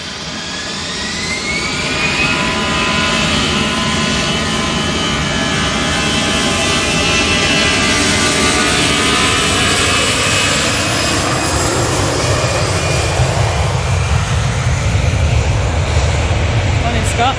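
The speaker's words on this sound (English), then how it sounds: "Next out, EasyJet to Reykjavik." EasyJet jet airliner departing to Reykjavik, a loud jet engine roar building over the first seconds into a sustained full-power rush with whining tones sweeping across it, heard from outside with faint talk.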